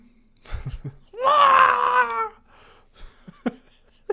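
A voice lets out a long, wavering goat-like scream imitation, loud and close, with a few brief vocal sounds before and after.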